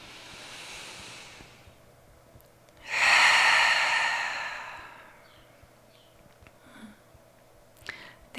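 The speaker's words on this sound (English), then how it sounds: "you could join me for one collective breath, starting with an exhale out. And we'll breathe in together." Two long group yoga breaths, a soft airy exhale followed after a pause by a louder, fuller inhale, close and unaccompanied by talk in a quiet room.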